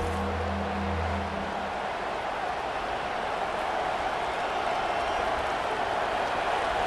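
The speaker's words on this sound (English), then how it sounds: "Here comes this home crowd as the defense tries to get off the field on 3rd down." A stadium home crowd in the EA Sports College Football 25 video game roars steadily on a third-down defensive stand, a broad continuous wash of cheering with a low hum fading early.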